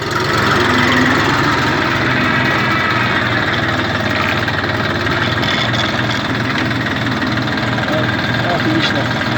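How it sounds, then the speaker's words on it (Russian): A Saturn ST2501 Chinese mini tractor's engine runs steadily and evenly up close, a continuous loud rumble with a low repetitive pulse throughout, as the tractor backs up slightly, with a voice mixed faintly into the engine noise. "Двигатель работает ровно, четко."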